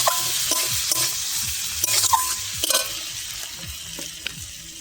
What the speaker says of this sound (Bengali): ফের নেড়ে চেড়ে নেবো ভালো করে। এবার কষিয়ে নেবো মশলাটা।